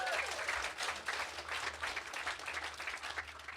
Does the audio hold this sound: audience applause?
yes